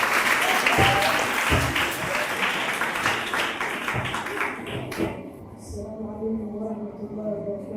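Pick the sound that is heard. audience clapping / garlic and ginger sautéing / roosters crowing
audience clapping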